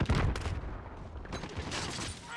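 Rapid bursts of gunfire from the video game Modern Warfare, dense and loud across a short stretch of in-game combat with no one talking.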